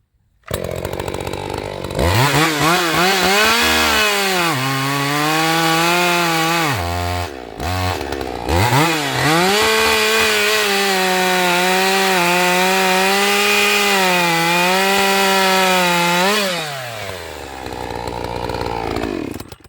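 Loud, close chainsaw cutting wood, one of a set of saws including Troy-Bilt, Redmax and Black & Decker models. The engine revs up and holds a high, steady whine under load, dips briefly mid-cut, then winds down to idle.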